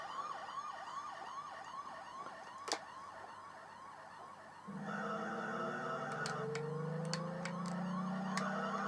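Police car siren wails in an F40 Pursuit Simulator game on an Amiga 500+, a steady rising-and-falling cycle looping for several seconds before a louder engine roar and sharp game clicks take over.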